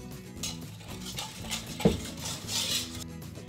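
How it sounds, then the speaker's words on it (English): Cream, milk and sugar being mixed in a bowl for ice cream, giving soft continuous stirring and light clinks of utensil against bowl, with one brief sharper knock midway; no talking. "I'm going to thoroughly mix the ingredients."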